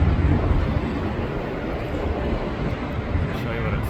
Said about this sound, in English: An aerial banner being pulled by that red plane up there.